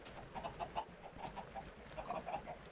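Chickens clucking in a Minecraft chicken farm, a string of short, quiet, fairly close clucks with brief pauses between them.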